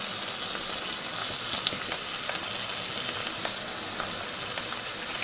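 Pancetta sizzles and fries steadily in a pan with cream and béchamel, a close, continuous crackling hiss with small scattered pops.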